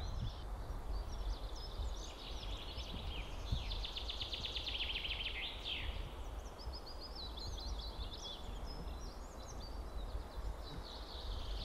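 Many birds sing on Deer Island (Jelenia Wyspa) in late April, their faint, distant chirps and trills rising over a constant low outdoor rumble.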